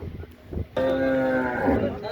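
A buffalo at a busy livestock market in Mansa gives one loud, drawn-out moo lasting over a second, rising from low background murmur and fading at the end.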